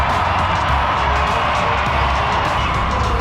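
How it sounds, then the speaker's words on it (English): An arena crowd at a monster truck show roars and cheers in a dense, sustained wash of noise, loud and continuous, with no single voice standing out. "This crowd is fired up for monster trucks right now."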